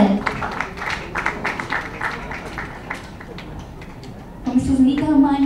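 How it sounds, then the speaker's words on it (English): Audience applause at a book launch, a patter of clapping from the crowd that thins out before a person begins talking near the end. "Please, a huge applause for him as well."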